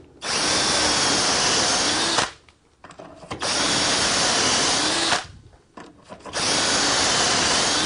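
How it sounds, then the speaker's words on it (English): A power drill whirs steadily into wood in three long bursts through a Dowelmax doweling jig, stopping briefly between them, loud and close. "Tighten the clamp screws and drill exactly the same sequence as you did for the other workpiece."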